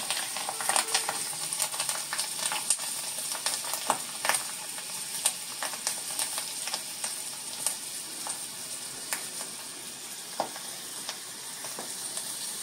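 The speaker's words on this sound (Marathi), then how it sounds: "ह्या 4 हिरव्या मिरच्या घेतल्यात फोडणीसाठी. आता या छान जरा तळल्या गेल्या पाहिजेत." Green chillies and curry leaves frying in hot oil for a tempering, a steady close sizzle with frequent sharp crackles and pops throughout, no voices.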